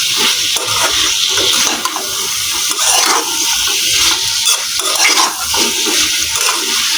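Potato pieces and pumpkin stalks are stirred together in a hot pan, giving a loud, steady sizzling hiss broken by repeated scraping bursts of the spatula, with no talking.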